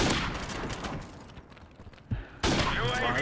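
Rapid gunfire rattles in a shooting video game: a close, fast volley of shots fades to a brief lull, then a sharp thud and a loud new burst break out.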